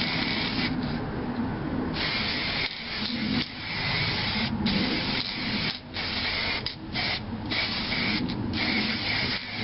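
An aerosol spray paint can hisses in long, steady bursts with brief gaps, close and fairly loud, as paint is applied to a car wreck.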